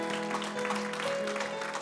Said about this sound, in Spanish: Dele un aplauso fuerte a Cristo, porque Él es bueno